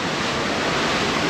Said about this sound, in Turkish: Kaç metre sence bu dalgalar?